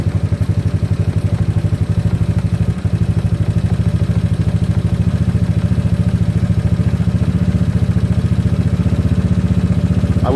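A GY6 scooter engine idles steadily and loudly up close, a continuous rapid low putter with a slight shake and no audible talking.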